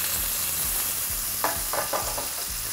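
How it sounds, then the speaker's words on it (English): Fish sautés in browning butter in a pan, a steady close sizzle and hiss with a few soft spatula scrapes and taps near the middle, no voices. "My butter's starting to brown a little bit."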